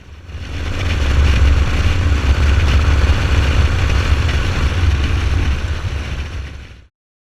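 A Norvin cafe racer motorcycle, a roughly 50-year-old Norton Featherbed frame with a Vincent Rapide engine, runs steadily for several seconds, a loud close rumbling drone that fades in and then cuts off abruptly, with no talk.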